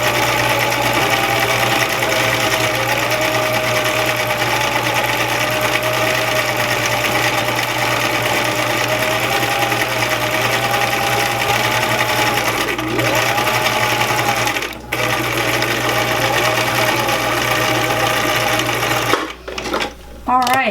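A sewing machine stitches gathers along lace gown layers, running in one steady, loud, continuous whir with a humming motor drone, briefly pausing near the end with a few clunks.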